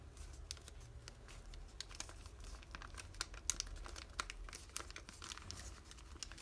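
Paper being creased and folded into an origami bat, with quick crinkling and soft papery snaps in a steady close-up patter, no voices.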